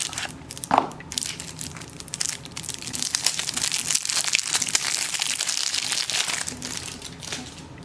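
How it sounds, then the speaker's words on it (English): Plastic wrapping on an OverPower card game starter pack crinkles and crackles close up as it is torn open, with a sharp rip early on followed by several seconds of busy crumpling that tapers off. "Let's crack open our starter pack"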